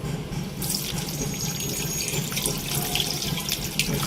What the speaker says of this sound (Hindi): और अब हम इसके अंदर पानी शामिल करेंगे।